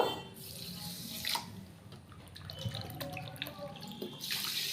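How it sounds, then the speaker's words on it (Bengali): Four cups of water poured into a pot with sugar and cardamom for sugar syrup, a close splashing stream in short pours with brief pauses between them. "চার কাপ আমি জল দিয়ে দেব"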